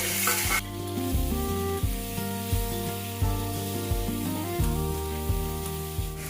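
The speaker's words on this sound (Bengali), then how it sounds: "সঙ্গে আমি টমেটো কুচিটাও দিয়ে নেব। দিয়ে এবারে আমি এটাকে বাকিটা পুরো ভেজে নেব।" Chopped onions, potatoes and tomato fry in a pan with a loud, continuous sizzle. Utensil clinks and stirs recur at a steady rhythm throughout, and a brief burst of hiss opens the sound. No one speaks.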